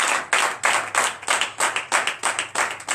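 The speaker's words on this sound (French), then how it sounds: "j'invite chaque frère et sœur en Christ à donner de vives acclamations à notre Seigneur Jésus" A church congregation at a night deliverance service in Benin claps in a strong rhythmic pattern, loud bursts of clapping repeating in regular waves about every third of a second.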